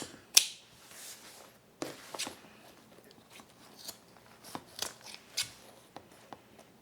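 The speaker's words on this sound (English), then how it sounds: "I'm going to go ahead and cut my zippers." Scissors snip through zippers for a unisex bag, giving a few sharp, close cuts spaced irregularly, with faint rustling and handling sounds between them and no talking.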